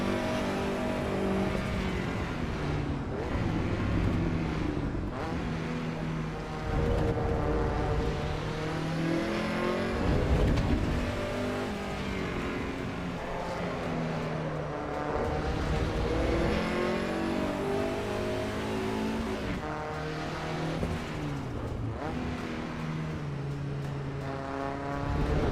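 Lancia Integrale engine straining under load on track and roads, a sustained droning rev with rising and falling pitch as it accelerates, loud and steady throughout without voices.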